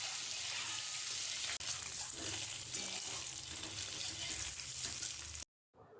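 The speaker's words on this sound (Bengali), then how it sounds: "কড়াইতে 50 ml সরষের তেল গরম করে ডিমগুলো লাল লাল করে ভেজে নিচ্ছি।" Boiled eggs fry in hot mustard oil in a wok, giving a loud, steady broadband sizzle that runs without a break for about five seconds before cutting off abruptly.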